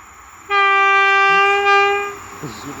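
A nearby train sounds a loud, steady horn blast of about a second and a half, then it fades as quieter rail noise continues.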